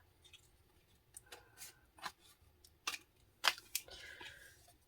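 Large scissors cut through paper in a string of sharp, crisp snips, several irregular close-up cuts with quiet pauses between them, and no talking.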